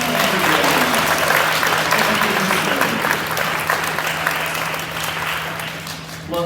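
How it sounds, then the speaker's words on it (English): An audience at a third-grade Veterans Day school concert gives a sustained round of applause for veterans, steady and full, tapering slightly toward the end. "how about one last round of applause for all the veterans in our audience this evening?"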